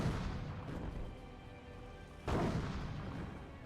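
Mortar shells land and explode in a Company of Heroes match: a heavy boom at the start, a quieter rumbling stretch, then a second loud blast partway through.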